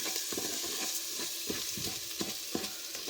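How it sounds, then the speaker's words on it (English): Washed rice stirred in a pot to coat it in a cooking mixture, with a spoon scraping and swishing in a steady rhythm over a soft sizzle, close and moderately loud, no talking. "Then just stir it in there to kind of coat the rice with that mixture."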